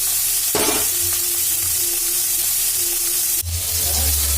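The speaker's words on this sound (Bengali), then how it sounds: "এখানে আমি এবারে কড়াতে মাছ দিয়ে দিচ্ছি" Fish dropped into hot oil in a kadai, a sudden burst of loud sizzling that settles into a steady hiss, with a clatter partway through.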